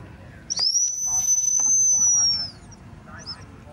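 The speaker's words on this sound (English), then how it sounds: "Stay there, whistle, just a whistle." A single long, steady high whistle blown as a command to a working sheepdog at a steam fair, sounding clear and fairly close for about two seconds over low outdoor background noise.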